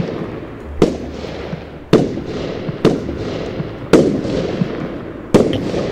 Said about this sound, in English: Who's setting off the fireworks?